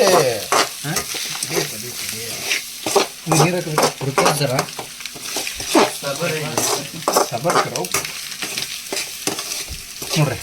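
Egg masala being stirred and fried in a pan, with steady sizzling and repeated scraping strokes of a spoon against the pan, loud and close throughout with no talking.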